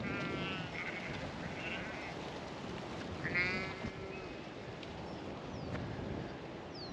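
Ewes and lambs bleating in a field, several calls of different pitch scattered across the clip at moderate distance over steady outdoor wind noise.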